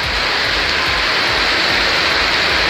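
Heavy rain pours down in Coimbatore, a dense, loud, unbroken hiss of water hammering surfaces with no pauses and no voices.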